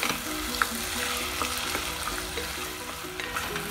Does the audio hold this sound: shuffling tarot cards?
no